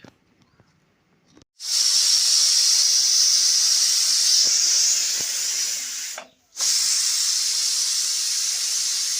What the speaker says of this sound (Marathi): वाफ काढून द्यायचं काम चालू आहे